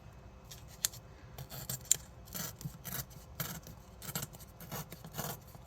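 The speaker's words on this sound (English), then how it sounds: "we're going to do our best to tear a nice tear here" Paper is torn along a ruler in short, soft rasping bursts, several ripping strokes in a quiet room with a faint click or two in between.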